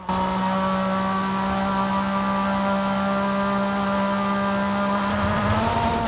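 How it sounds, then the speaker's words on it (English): A Porsche race car engine in a video game holds a steady, loud, buzzing drone for several seconds, shifting slightly in pitch near the end. "That's actually a pretty good engine sound, all things considered."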